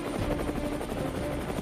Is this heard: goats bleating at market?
no